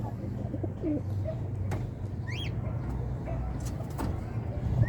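A dove or pigeon coos softly a couple of times over steady low background hum and distant traffic, with faint chirps from other birds.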